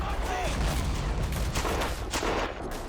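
Machine gun fire in the WWI video game Battle of Empires 1914-1918, a dense, steady rattle of gunfire blended into a loud battlefield din that never lets up.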